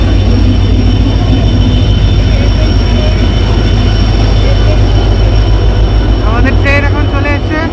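The 12837 Howrah-Puri Superfast Express rolls into Howrah station with a loud, close rumble of wheels and a steady mechanical drone, brief squeals near the end, and people talking over it.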